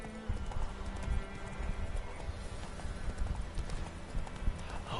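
Steady clip-clop of a horse's hooves at a quick galloping rhythm in the video game The Witcher 3: The Wild Hunt, with an occasional whinny, continuous over a dense background.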